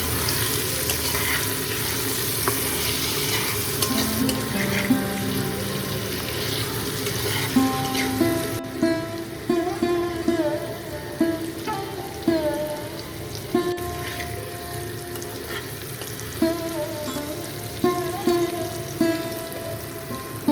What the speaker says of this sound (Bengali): এবার এই তেলের মধ্যে পনিরগুলো দিয়ে খুব ভালোভাবে 2 থেকে 3 মিনিট ধরে ভেজে নেব।